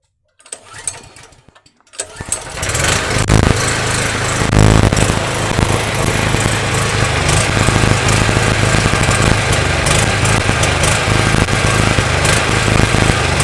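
A petrol generator converted to run on mains natural gas through a gas reducer fires up after a brief cranking rattle, then settles into a loud, steady engine drone that continues to the end with no talk.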